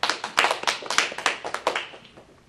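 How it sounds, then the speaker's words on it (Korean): Applause from a church congregation during a worship service, a burst of hand claps with a ragged, quick rhythm that thins and fades out over a couple of seconds. "박수 한번 쳐줘 우리 사모님."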